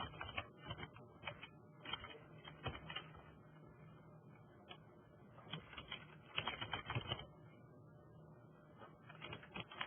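Computer keyboard keys tapped in quick uneven bursts with short pauses while an address is entered, close and fairly quiet, with no talking.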